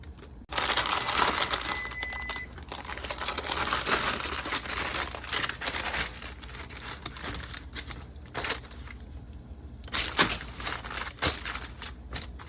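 A strawberry shortcake ice cream roll is peeled up from its baking surface, a long run of soft crinkling and crackling close by with a few sharper tearing bursts.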